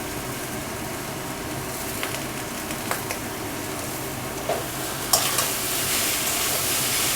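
Potatoes frying in a pan on a gas stove make a steady, even sizzle with a few faint clicks and scrapes from stirring, and the hiss grows slightly brighter toward the end.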